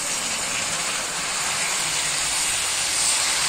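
Washed fenugreek leaves dropped into a large hot kadhai, giving a loud, continuous steamy hiss and sizzle that holds steady throughout.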